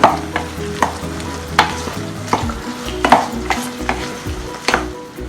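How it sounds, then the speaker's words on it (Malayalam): A dried prawn and snake gourd stir-fry is stirred in a pan with a spoon, giving about seven distinct, close scraping strokes over a steady, loud sizzle. The strokes come at an uneven rhythm, with no voices. "അപ്പൊ ജസ്റ്റ് ഒന്ന് ഇടയിലൊന്ന് ഇളക്കി കൊടുക്കാം നമുക്ക്"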